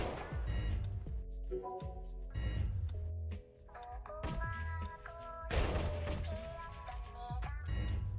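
Rapid bursts of gunfire from guards in a Roblox Squid Game round crackle through dense game music, with volleys recurring steadily for several seconds.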